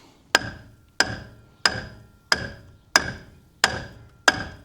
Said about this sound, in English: grab your hammer and just gently tap around the edge of the hub